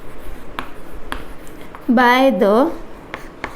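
Someone writes on a board during an accounting lesson, making a series of short, close taps and strokes. Someone speaks briefly partway through.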